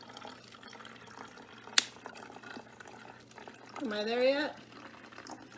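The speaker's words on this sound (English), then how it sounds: "So I'm gonna pour till I get to the black line." Water is poured into a bottle for a balloon experiment, a faint trickle with a sharp click early on and a gurgling, rising fill near the end while a person speaks.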